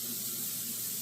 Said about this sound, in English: I am going to put some cold water in here